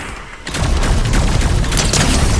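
Loud bursts of rapid gunfire and booms in Fortnite crowd together after a short quieter opening, dense and close.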